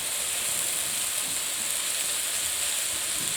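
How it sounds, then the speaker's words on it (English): Finely chopped raw vegetables stir frying in a pan over medium heat, a steady bright sizzle and hiss running evenly and loud throughout with no talking. "I am stir frying my vegetables"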